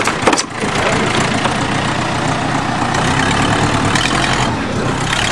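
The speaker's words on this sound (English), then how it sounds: "Oh, there goes the tractor." A farm tractor engine runs steadily close by, a loud rough low rumble that holds even throughout after a brief burst at the start, with no voices.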